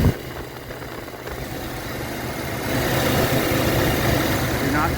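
A 1986 Jeep Comanche engine running, a steady mid-pitched rumble that grows louder and fuller partway through and settles into an even idle.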